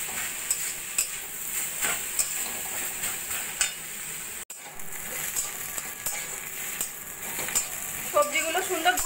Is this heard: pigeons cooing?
no